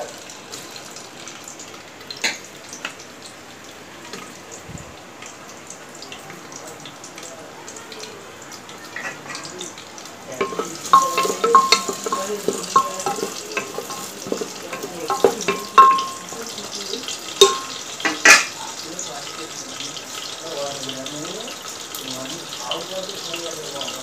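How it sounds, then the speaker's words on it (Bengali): Chopped onions frying in a pan for a beef and jackfruit-seed dish, a quiet hiss at first, then louder crackling sizzle with irregular stirring scrapes and clatters. "পেঁয়াজটা আমি দিয়ে দিচ্ছি"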